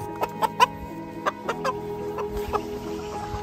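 A rooster in a chicken coop giving several short, sharp clucks close by, spaced irregularly over a low background hum.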